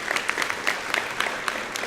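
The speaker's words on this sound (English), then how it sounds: "Give Jack a round of applause." A room of attendees at a Rotary student service fair claps for a past president, a moderate patter of hands with distinct individual claps close by.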